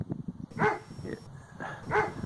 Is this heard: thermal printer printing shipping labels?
no